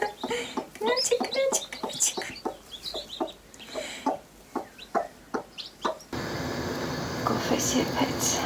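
A hen clucks repeatedly near newly hatched chicks, with bursts of clucking spread through the scene and people talking alongside; a steady broadband hiss takes over toward the end.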